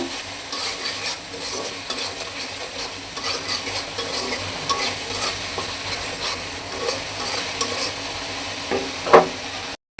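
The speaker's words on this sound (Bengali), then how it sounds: "তো মশলাটা ভালো মতো কষাবো" Spice paste with salt stirred and sautéed in a pan for a Bengali dish of drumsticks, dried fish, eggplant and potato: a steady close sizzle with continuous scraping stir strokes, ending in a brief louder clatter near the end.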